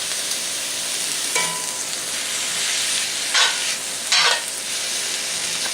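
Cabbage and sugar sizzling loudly in a cast iron pan, a continuous frying hiss broken by two louder bursts as metal tongs toss the food, with no talking.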